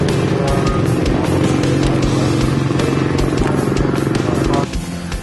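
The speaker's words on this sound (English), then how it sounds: "riding Dustin Wimmer's 2008 Championship LTR450 Suzuki at the last round of Loretta Lynn's AMA Pro National" Factory 2008 Suzuki LTR450 motocross ATV ridden hard at Loretta Lynn's AMA Pro National, engine roaring loud and close with steady revving and gear changes, easing off near the end.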